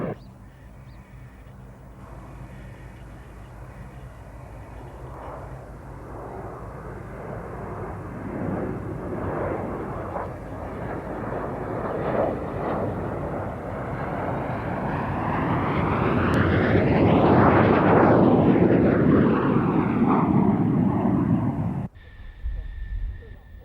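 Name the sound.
Patrouille de France aerobatic jets flying in close formation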